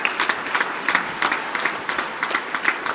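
A crowd applauds at the GNCC senior finals, with sustained dense clapping throughout and a few sharper claps standing out.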